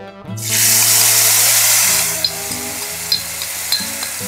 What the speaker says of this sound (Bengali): এবারে তৈরি করে রাখা মশলার পেস্ট এর মধ্যে অ্যাড করে দিতে হবে।